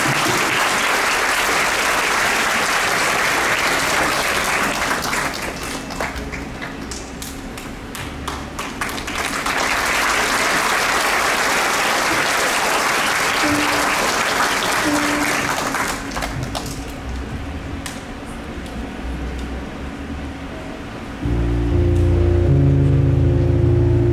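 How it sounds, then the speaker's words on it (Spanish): Concert-hall applause for a singer at a symphonic concert with orchestra: a loud, sustained roar of many clapping hands that dips and swells, then gives way near the end to the orchestra beginning to play. "Aplausos para él."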